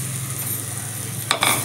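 Flat beans fry in a pan for a tamarind curry, giving a steady, close sizzle with a couple of quick scraping stirs near the end.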